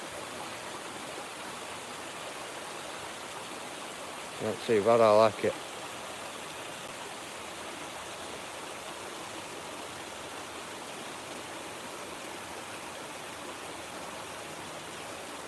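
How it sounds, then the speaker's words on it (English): A small river runs with a steady, broadband rush of flowing water, close and continuous throughout, while someone briefly speaks over it partway through. "See, this river is a separate little river to that other one where we were at a minute ago."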